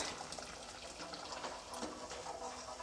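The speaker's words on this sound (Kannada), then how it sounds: "ಈಗ ಇದು ಸಕ್ಕರೆ ಎಲ್ಲ ಕರಗಿದೆ ನಾನೀಗ ಇದಕ್ಕೆ ಹಾಲು ಹಾಕ್ಕೊಳ್ತಾ ಇದ್ದೀನಿ" Milk poured into a pot of sweetened vermicelli payasam, a steady close gushing flow of liquid lasting a few seconds without pause.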